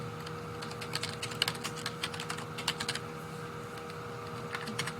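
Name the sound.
typing on a computer keyboard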